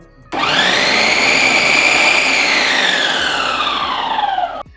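Onions being chopped in an electric mixer grinder, a loud, close motor whine that starts abruptly, runs steadily for about four seconds while its pitch slowly sinks, then cuts off.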